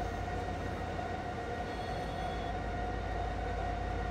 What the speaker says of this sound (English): That sound you hear is dragging against brakes.